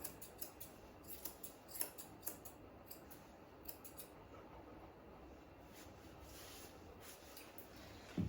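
Small scissors snip fur on a dog's foot during grooming, a string of faint, crisp clicks at an uneven pace over a quiet background, close to the ear.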